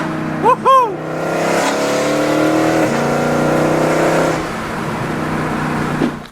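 A Mercedes C63 AMG engine revs hard and holds a loud, rising roar through a downshift before dropping away, while a voice gives a short excited whoop near the start.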